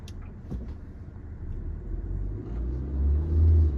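A car engine in first gear climbing an inclined road: a low, quiet rumble builds gradually and grows stronger toward the end.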